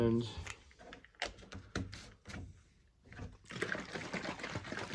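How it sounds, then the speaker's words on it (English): Collected rainwater being poured down a drain at a cleanout, a trickling, splashing pour in bursts, close and fairly quiet, with a person talking over parts of it. "then you pour it down into the drain there where the clean out"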